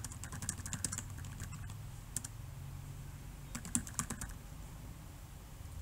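Typing on a computer keyboard to enter a group description, with quiet key clicks in bursts and short pauses over a low background hum; no talking.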